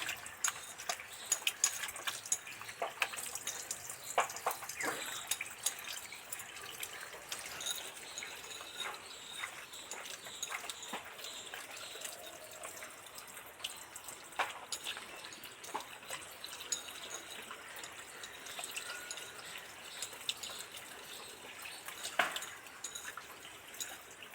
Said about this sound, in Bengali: ভালো করে জল ছেড়ে ভালো করে ধুয়ে নিচ্ছি